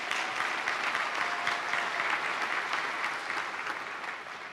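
Sustained audience applause at a university commencement ceremony, a dense, even wash of many hands clapping steadily throughout and tapering slightly at the end.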